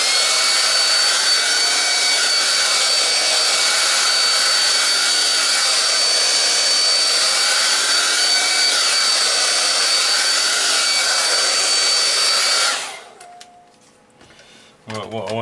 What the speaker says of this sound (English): Now I'm just going to hit the hairdryer up again.